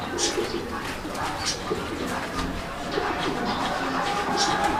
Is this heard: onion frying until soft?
no